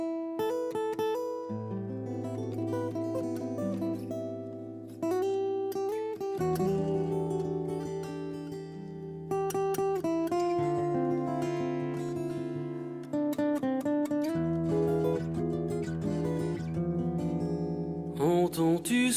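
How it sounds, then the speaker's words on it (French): A French Christian song, 'Le ciel est en fête', plays as steady music with sustained tones and shifting chords, moderately loud and uninterrupted, with no voice talking over it. "je voudrais maintenant vous laisser à l'écoute de ce chant qui serait peut-être une confirmation"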